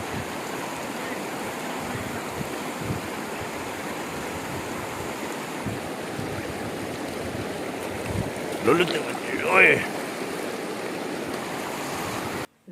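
A river rushes steadily and broadly as a person wades across it outdoors, the flowing water constant throughout, with a brief shout and splashing bursts near the end.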